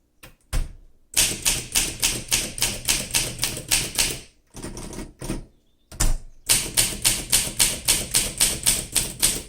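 Rapid bursts of keystrokes on a 1959 Olympia SM3 manual typewriter, crisp close clacks in quick rhythmic runs broken by a couple of short pauses, with no talking.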